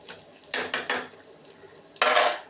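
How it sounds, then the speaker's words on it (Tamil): Dried red chillies being sautéed in a pan, with a spatula clinking and scraping against the metal in four short, close bursts amid a faint background hiss. "காஞ்ச மிளகா போட்டாச்சா, கொஞ்சம் திரியை ஏற்றி வச்சுக்கோங்க. நல்லா வதக்குங்க."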